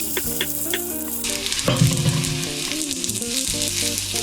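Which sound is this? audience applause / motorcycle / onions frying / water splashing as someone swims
onions frying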